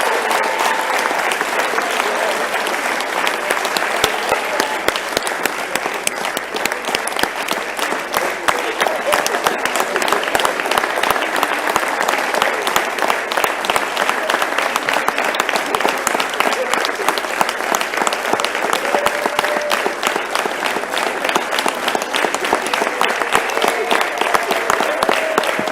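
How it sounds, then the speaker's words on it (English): Sustained, dense applause from a large audience fills the whole stretch evenly and loudly at a live matric results announcement ceremony. "Please give him a round of applause."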